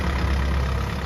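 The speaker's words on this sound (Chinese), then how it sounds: "这个大拖拉机" A large farm tractor engine idles steadily in a field, a continuous low rumble with no speech over it.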